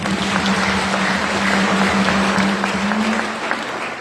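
An audience applauds the pastors in steady, dense clapping that runs the whole time, with a sustained hum underneath and occasional voices in the crowd.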